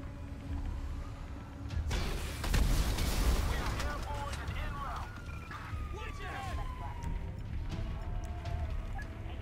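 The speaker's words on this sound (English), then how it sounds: "Shotgun. what a shot, not gonna lie." Shotgun blasts in the GTA V video game, heavy booming shots with loud rumbling echoes over a dense background of game action, with a voice talking over the gunfire.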